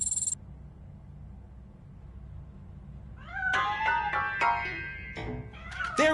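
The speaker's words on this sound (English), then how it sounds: "That cat must be hiding inside." Cat in the RoboCop: Rogue City game meowing several times in quick, insistent calls from close by, after a brief tone at the start and a stretch of low room hum.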